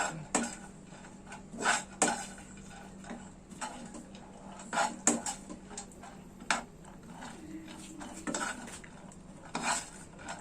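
Soybeans being stirred in a heated pan while tempe is made, with a utensil scraping and clinking against the metal in irregular bursts over a faint background hiss, close by and without talk.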